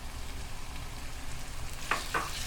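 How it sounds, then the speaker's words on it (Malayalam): Chopped tomatoes frying with spices in a pan for Kerala-style fish biryani, a steady close sizzle throughout with a couple of brief stirring scrapes near the end. "ഇതിലോട്ട് നമ്മൾ അരിഞ്ഞു വെച്ചിരിക്കുന്ന നമ്മുടെ തക്കാളി കൂടി ഇട്ട് കൊടുക്കുന്നു."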